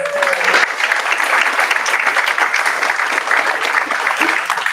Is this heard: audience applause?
yes